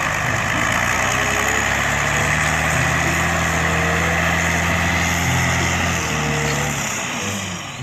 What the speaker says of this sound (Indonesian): lihat teman-teman, di sini ada mobil truk tambang